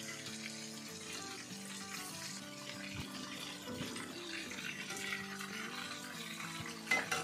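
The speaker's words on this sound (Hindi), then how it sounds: "मीडियम आंच पे हमने फ्राई करनी है मछली" Fish frying in oil over medium heat: a quiet, steady hiss and crackle of sizzling with faint bubbling, continuous throughout, with a sharper clatter near the end.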